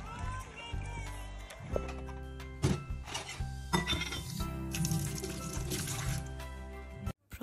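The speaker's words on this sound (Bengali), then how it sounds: "প্রথমে নিচে এসে আমরা যে খাওয়া দাওয়া করেছিলাম নাস্তা, সেগুলো জিনিসপত্রগুলো আমি ধুয়ে নিচ্ছি" Breakfast dishes and utensils washed under running water, with a steady stream splashing, clinks of dishware and rubbing sounds, close by, with some voices in the background.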